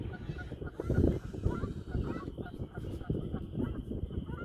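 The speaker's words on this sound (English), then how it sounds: "There's a couple of honkers there." Geese honk back and forth outdoors, with repeated calls over a steady rough wind or rustle. A person talks faintly in the background.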